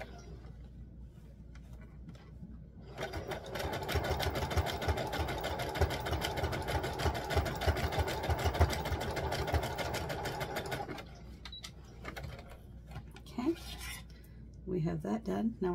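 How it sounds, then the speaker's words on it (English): Close by, a sewing machine zigzag-stitches above a gathered waist seam on a small doll's formal dress, a rapid, steady mechanical chatter lasting several seconds before it stops, with quiet handling noises around it. "I'm going to zigzag just above the stitch line just to secure the gathers and to tidy up the waist"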